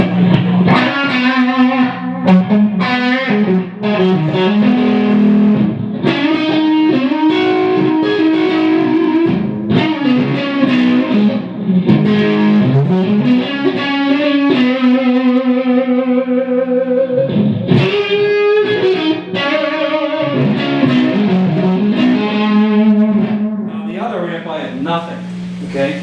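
A distorted electric guitar played through a Gjika amp with a small delay effect, with sustained chords and single-note runs going steadily for about 26 seconds, loud and close.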